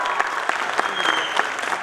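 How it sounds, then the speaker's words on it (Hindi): Theatre audience at a comedy play applauding the cast, a steady, fairly loud patter of many hands clapping for about two seconds with no speech over it. "जोरदार तालियां के लिए भी।"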